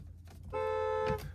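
A 2024 Porsche Taycan GTS sounding its car horn from inside the cabin, a single short, steady toot lasting about half a second.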